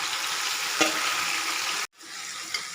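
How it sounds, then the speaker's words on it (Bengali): Marinated chicken tipped into frying onions for capsicum chicken, setting off a loud, continuous close sizzle with a brief clink, a momentary cutoff, then the sizzle resumes. "এবার এর মধ্যে দিয়ে দেবো ম্যারিনেট করে রাখা মাংসটি"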